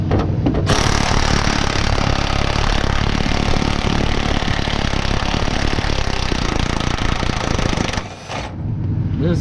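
A large pneumatic impact gun hammers continuously on a cab bushing bolt of a Kenworth truck, loud and close, a dense rattling roar lasting about eight seconds before it stops and then briefly resumes.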